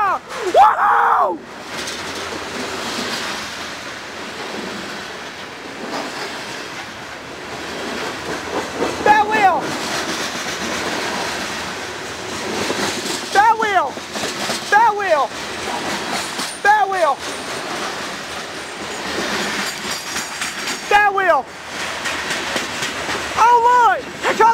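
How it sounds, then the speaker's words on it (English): A CSX freight train with an SD40-3 locomotive rumbles past steadily with rhythmic clatter and recurring squealing wheel sounds, while people cheer and talk excitedly throughout. "We've got another great train!"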